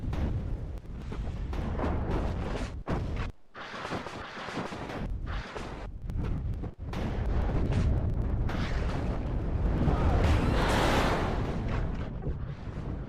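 Heavy artillery fire in the video game WARNO, rumbling booms and blasts rolling on continuously with brief gaps, loud and dense with no talking.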